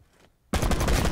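A sudden burst of rapid pistol fire in a multiplayer shooter game bursts in after a near-silent pause, loud and close, the shots running together into a dense crackle.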